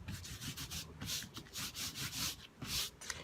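Repeated rubbing strokes of fingers or cloth over an embroidered fabric dining mat for a dog or cat, wiping away white marking lines; steady back-and-forth scuffing, close and moderately loud, with no talking.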